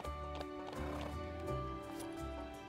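Horse sounds in the ranch video game The Ranch of Rivershine: rhythmic clip-clop hoof steps with a whinny layered over steady game music, moderately quiet and continuous.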